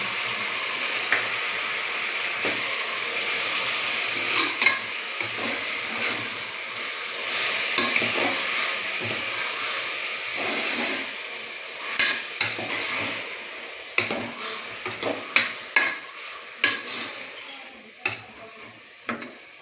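Tomatoes stirred and fried in a pan for tomato bath with field beans, a steady close sizzle broken by repeated scraping stir strokes that grow sharper and more frequent toward the end, with no talking.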